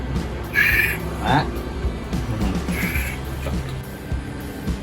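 A crow-like bird gives two harsh, raspy caws a couple of seconds apart, close by in a home setting over steady background noise.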